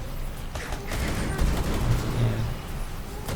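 Gunfire in the video game Rainbow Six Extraction, with rapid bursts of shots and sharp cracks over a dense, busy game soundscape at moderate level for a few seconds.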